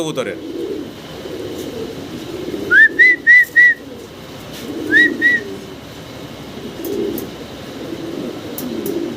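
Fancy pigeons coo in low, repeated pulses, nearby and steady. A few sharp whistled calls cut in around the middle, and people talk faintly in the background.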